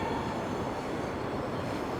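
Broadband rumble of a bullet train at Beijing South railway station, a steady, fairly quiet roar of rail noise throughout with no speech.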